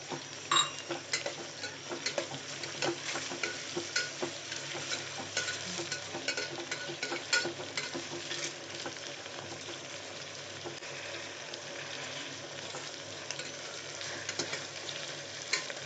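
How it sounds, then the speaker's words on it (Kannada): Chopped onions and tomato frying in a pan for chicken fry, with a soft continuous sizzle and scattered clicks and scrapes of a spoon stirring, fairly quiet and steady with no talking. "ಈರುಳ್ಳಿ ಹಾಕಿ ಚೆನ್ನಾಗಿ ಫ್ರೈ ಮಾಡಬೇಕು."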